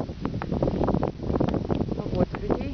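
Strong wind buffets the microphone outdoors on a street in Donetsk, Ukraine, a steady loud rumble with gusts, while a person talks over it.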